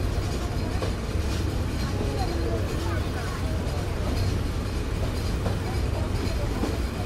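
Sundarban Express train from Dhaka to Khulna running at speed, a dense continuous rumble and rattle of carriages heard from inside, loud and steady throughout with faint clacks, no clear talk.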